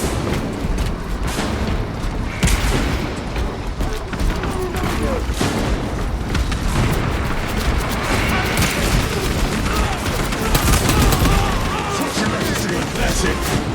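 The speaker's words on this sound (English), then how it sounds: "Small arms fire." Close-range small arms fire in Warhammer 40,000: Space Marine 2, a dense, continuous battle din of rapid shots and booming impacts layered with shouting voices throughout.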